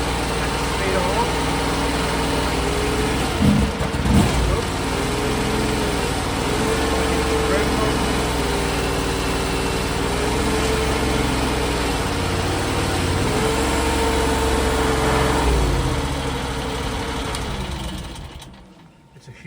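A cheap skid steer's engine runs steadily while driving a stump grinder, a loud continuous low drone with rhythmic load surges, close by and fading out at the end.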